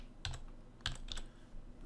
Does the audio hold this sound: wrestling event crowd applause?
no